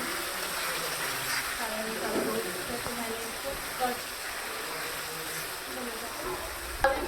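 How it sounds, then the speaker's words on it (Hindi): Spice masala for Bengali potato curry frying in a pan, a steady dense sizzle that continues evenly throughout with occasional stirring scrapes and a sharper knock near the end. "मसाले को मैंने भून रही हूँ।"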